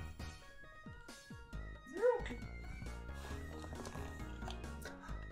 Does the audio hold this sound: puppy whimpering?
yes